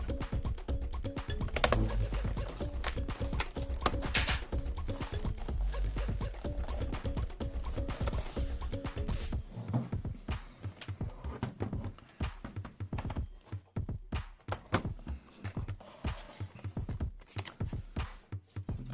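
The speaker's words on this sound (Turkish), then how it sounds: "Şimdi klavyemizi oturtalım." A laptop keyboard is pressed back into its seat during an SSD and HDD upgrade, giving repeated soft clicks and taps, then faster scattered clacks, all quiet and close.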